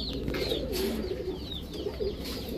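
Pakistani teddy and Rampuri pigeons coo softly in a group at a pigeon seller's, low throaty calls over a busy background with faint higher chirps.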